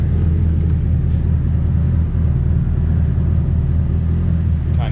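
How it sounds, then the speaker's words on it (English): A high-compression Honda D16Z6 engine idles very low and steady, its deep rumble broken by irregular lean pops, recorded close with no talk. "Idle's very low. It's got a bunch of lean pops,"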